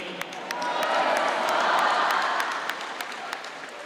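A large crowd in Canada applauds steadily for Ukrainian soldiers, dense clapping swelling slightly in the middle with a few sharp individual claps standing out.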